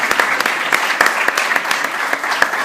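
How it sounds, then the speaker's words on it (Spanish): An audience applauds critic Pablo Marín at a film festival talk, with steady, close, fairly loud clapping from a small crowd and sharp individual claps standing out throughout. "Un aplauso para el crítico Pablo Marín,"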